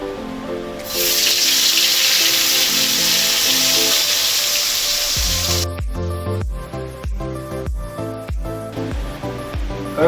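Ground masala paste hits hot oil in a pan for a crab fry, bursting into a loud, steady hiss that lasts several seconds before giving way to rhythmic thumps of stirring.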